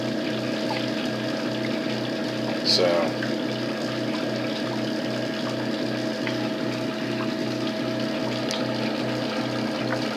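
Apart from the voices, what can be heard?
PicoBrew Zymatic pumping water into the mash tun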